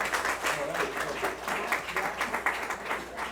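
An audience at a domestic violence conference claps warmly for a presenter. The applause is steady and moderately loud, with a few voices mixed into the clapping.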